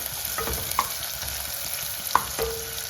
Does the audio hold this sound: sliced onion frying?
yes